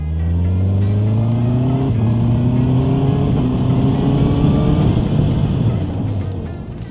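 A Honda motorcycle fitted with the electronic E-Clutch accelerates steadily in one lane, its engine tone climbing through the gears, loud and close for the whole stretch.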